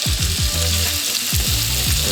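Chicken tenderloins laid into a pan of hot olive oil sizzle loudly and steadily, with a few quick crackling bursts near the start and again midway, close up with no voices.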